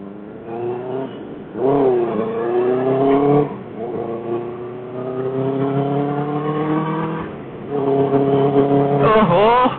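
A Benelli motorcycle engine with an Ixil exhaust pulls steadily while being ridden, its tone rising and falling through several throttle changes and swelling loudly near the start and end, with some talk mixed in.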